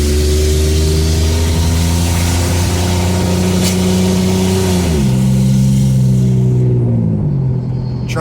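A Mercedes-Benz SL R129 with straight exhaust revs loudly at close range, a deep droning engine note that holds steady, then drops in pitch in a couple of steps as the revs fall back toward idle.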